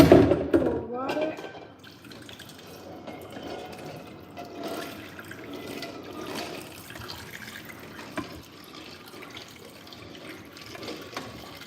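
Cold tap water runs steadily over just-boiled eggs in a kitchen, a continuous soft rush lasting several seconds after a brief louder splash at the start, with no speech over it.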